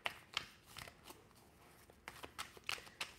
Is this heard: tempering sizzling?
no